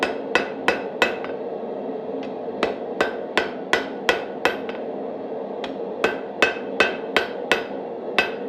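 A hammer strikes hot metal while a Rubik's twist wand is forged, giving sharp, ringing blows in quick, fairly regular bursts close to the listener with brief gaps between groups.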